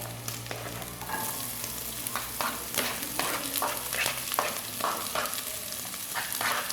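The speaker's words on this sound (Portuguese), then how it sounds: "o alho já tá fritando, tá bem douradinho" Garlic and onion frying in a pan for Brazilian virado de feijão, a steady close sizzle with repeated scraping stirs of a spoon throughout, no voices.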